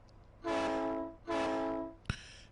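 An MP-15 locomotive in the Run 8 Train Simulator game sounds two long, loud horn blasts one after the other, then gives a short sharp clank.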